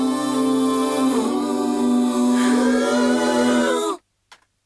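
Layered vocal harmonies without reverb sing a sustained chord whose voices shift partway through, held loud and dry for about four seconds before cutting off abruptly, followed by a brief faint sound.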